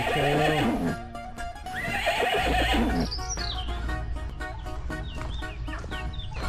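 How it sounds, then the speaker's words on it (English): Horses on a Camino Portugues trail neigh loudly several times, with hooves clip-clopping and a rooster or hens clucking nearby, mixed with outdoor ambience. "Horses along the trail."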